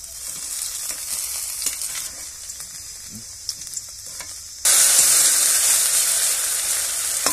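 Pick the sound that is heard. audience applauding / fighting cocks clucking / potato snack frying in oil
potato snack frying in oil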